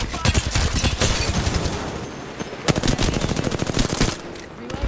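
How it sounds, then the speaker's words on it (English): Automatic weapon fire in an Apex Legends match, rapid bursts of shots crackling close and loud, pausing briefly and then resuming in fast rattling strings. "I'm getting shot from behind."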